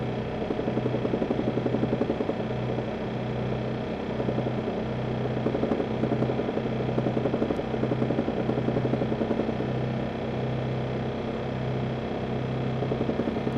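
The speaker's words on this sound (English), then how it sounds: "Now that thumping sound you're going to hear is the exhaust rattling around and nothing to do with the head gasket." A supercharged Aston Martin AMR300/500 engine runs steadily under boost while a loose exhaust rattles, giving a repeated low thumping pulse roughly every second over a continuous, fairly loud engine drone.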